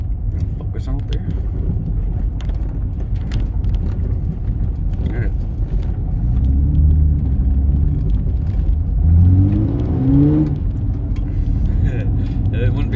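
Car driving along a road, heard from inside: a steady low engine and road rumble throughout, with an engine tone that climbs and sweeps upward about two-thirds through. A voice can be heard over the rumble.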